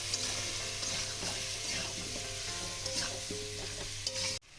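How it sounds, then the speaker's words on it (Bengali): Pumpkin sautéed with turmeric, salt and spices in a pan, a steady sizzle with scraping stirs, moderately close and continuous, cutting off abruptly near the end. "এবার আমি সব কিছুর সাথে ভালো করে কষিয়ে নেব কুমড়োটা।"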